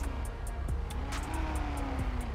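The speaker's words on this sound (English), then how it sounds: "Oh my god, that car is loud." A loud car in GTA 5 roleplay revs and drives past, its engine tone sliding up and down in steady pitch sweeps, heard alone without talk.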